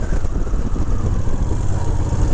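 A fuel-injected 2000 Moto Guzzi Jackal motorcycle engine runs with a steady, loud, throbbing mechanical roar, close and unbroken throughout.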